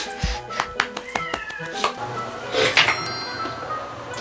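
A stray cat meows a few times among clinking sounds, with voices talking nearby.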